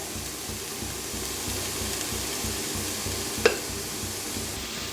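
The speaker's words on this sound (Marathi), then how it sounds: "आता कोबी भाजून घेऊया" Cabbage frying in oil in a pan gives a steady, even sizzle throughout, with a brief clink of a utensil near the end.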